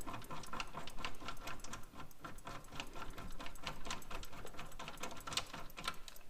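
A bolt is unscrewed during a Jeep Wrangler JL fender install, a rapid steady clicking ratchet-like rattle that runs continuously, close by, with no talking.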